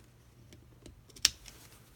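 Scissors give one crisp, quiet snip while clipping fabric at a side seam during sewing of track pants pockets, with faint handling ticks before it and no talk.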